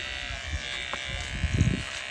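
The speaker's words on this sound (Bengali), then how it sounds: "বেশি ডিপ করে কাটিস না, টিমারে ঢুকে যাবে।" Electric hair trimmer buzzing steadily while cutting a man's dandruff-filled hair, a close, continuous hum with a brief louder burst near the end.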